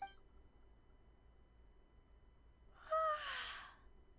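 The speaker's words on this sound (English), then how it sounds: "Voice acted yawn." A voice-acted yawn from a character in Genshin Impact: one breathy, drawn-out exhale with a rising then falling vocal tone, heard alone after a near-silent stretch.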